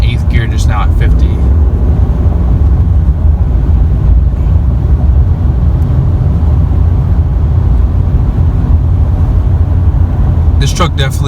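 Inside the cab of a 2019 RAM 2500 Heavy Duty Tradesman pickup with an 8-speed transmission, cruising at about 55 mph, a steady low road and engine drone hums throughout, with brief speech at the start and end.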